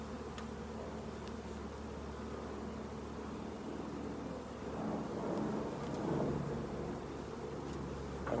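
A swarm of honeybees settling in one spot drones in a continuous dense buzz, steady and close, swelling slightly louder toward the end with some wind rumble underneath.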